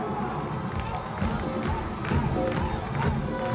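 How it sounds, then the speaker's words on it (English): Audience at a live concert in Austin: a dense, sustained wash of crowd noise with clapping and cheering, loud and close throughout. "You guys, round of applause for Austin Culture Association"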